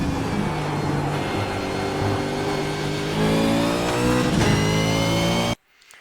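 A race car downshifts and then accelerates hard at Road America, its engine note climbing loud and close through the gears before cutting off abruptly near the end.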